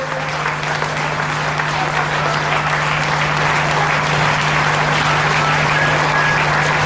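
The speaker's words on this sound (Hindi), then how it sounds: "एक महिषी के लिए तालियां बजा रहे हैं दोस्तों" A large audience applauds steadily throughout, a dense, even wash of clapping with a constant low hum underneath.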